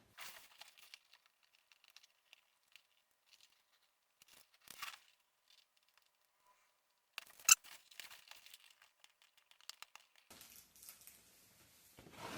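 A Transformers Universe Ultra Class toy is unboxed in a quiet room: faint, sporadic crinkles, rustles and small snips, broken by one sharp plastic clack and a burst of cardboard scraping near the end.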